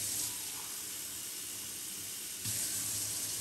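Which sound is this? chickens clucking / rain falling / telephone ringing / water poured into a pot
water poured into a pot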